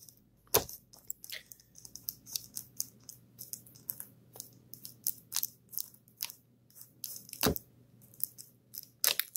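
An X-Acto knife slices open an unboxing package, giving a run of sharp, close crunching and snapping cuts in an irregular rhythm, with two louder pops standing out among the smaller crackles and no talk.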